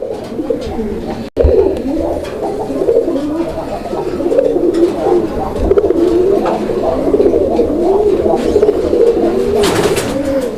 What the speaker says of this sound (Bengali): দর্শক আপনাদের রিকমেন্ডেড কবুতর আপনাদের পছন্দের কবুতর